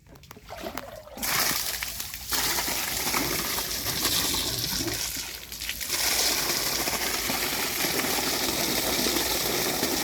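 Irrigation water gushing and splashing through an opened channel into a farm field, a continuous close rushing slosh that starts after a short quieter moment and then runs steadily for the rest of the clip.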